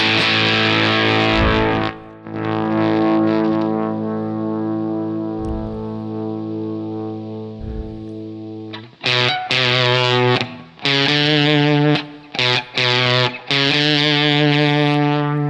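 Bright, twangy electric guitar through an Electro-Harmonix Satisfaction Plus fuzz pedal, first sustained ringing notes, then choppy single-note bursts with short gaps, loud and up close.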